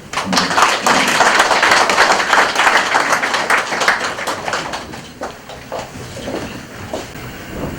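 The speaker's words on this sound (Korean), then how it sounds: "박수로." A church congregation applauds at a church founding service, loud dense clapping that holds steady for several seconds before thinning into scattered claps, with no talk.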